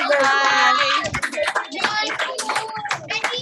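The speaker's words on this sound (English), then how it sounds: "So everybody give them a big round of applause and a big thank you." Audience applause at a grade 5 school celebration of learning, a burst of many hands clapping that thins into scattered claps, close, with some voices mixed in.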